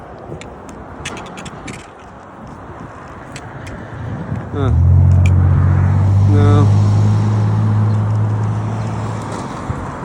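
Road traffic heard from the roadside, a continuous rushing hum with a vehicle rising and passing close by partway through, under a brief word of talk.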